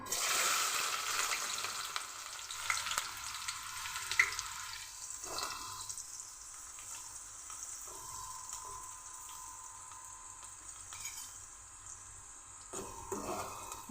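Chopped onions fry in hot oil for a home-cooked fish curry, giving a bright, steady hiss of sizzling that is loudest at first and then settles into a softer, even crackle with occasional spikes.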